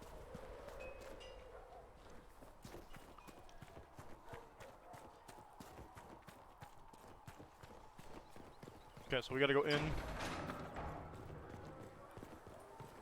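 Horse hooves clip-clop in a steady walking rhythm through a Dragon Age Inquisition game world, faint and continuous beneath someone talking, with a brief louder burst of effects near the middle.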